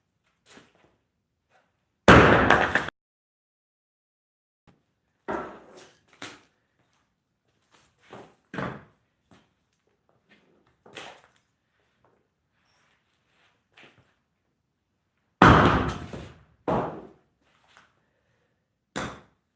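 Several sharp, loud impacts separated by pauses, single bangs and short clusters of knocks, like a hammer striking wood, with quiet gaps between.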